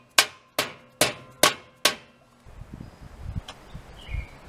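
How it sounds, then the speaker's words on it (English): A hammer whacking stuck carriage bolts with a nut threaded on, on toyhauler entry stairs: five sharp, evenly spaced metallic blows, close and loud, followed by quieter rustling and handling. "So I put a nut on there and giving them a whack,"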